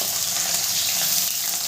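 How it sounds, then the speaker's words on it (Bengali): Potato and beans fry in hot oil for chire polao, a close, continuous crackling sizzle without pause. "ওই তেলের মধ্যেই দিয়ে দেবো সবজিগুলো।"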